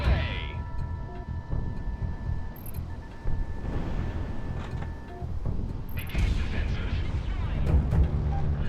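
Missile explosions from a Project Wingman jet combat game erupt as heavy, booming blasts with rumbling aftermath, a couple of distinct impacts amid constant engine roar, with a voice talking over parts of it.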